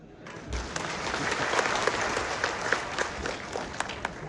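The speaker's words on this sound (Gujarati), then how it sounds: "બીજી તાળી પડશે પછી આગળ કહીશ." An audience claps at a town hall felicitation ceremony for winning candidates in Mehsana, a dense, steady round of applause from a large crowd that swells and holds for several seconds, close and loud.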